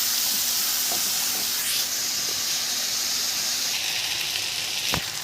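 Freekeh stirred in a pan with butter (ghee) and sautéed onion, a steady close sizzling hiss throughout with a few soft scrapes of the spoon, one sharper knock near the end, no talking.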